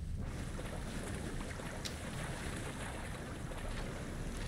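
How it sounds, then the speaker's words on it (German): A police boat motors across the water in the video game Sleeping Dogs, a steady broadband engine drone mixed with wave wash and wind, constant and fairly close throughout. "Wieso fährt hier ein Polizeiboot herum?"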